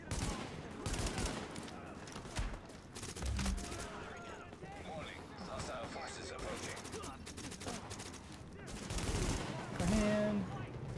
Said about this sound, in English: I hear a firefight.